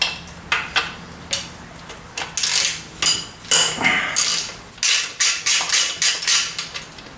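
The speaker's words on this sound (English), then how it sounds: "it makes sounds when I break bolts loose" Repeated metallic clicking and ratcheting bursts, close and fairly loud, coming in uneven groups with short pauses, as a hand ratchet breaks bolts loose during a Subaru Impreza EZ30D engine removal.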